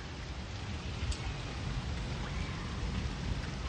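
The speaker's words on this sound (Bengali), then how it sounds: "অনেক বৃষ্টি হয়েছে আজকে, অনেক অনেক।" Heavy rain pours down steadily over a home garden with gourd vines in Bosila, a dense, continuous hiss that stays close and fairly loud throughout, with no voices.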